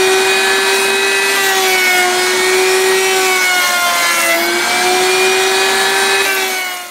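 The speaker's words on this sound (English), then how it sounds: "go with my old router table that I built a while back" A homemade router table shapes a wooden curtain rod, giving a loud, steady high-pitched whine with a slight dip in pitch midway, cutting continuously before winding down at the end.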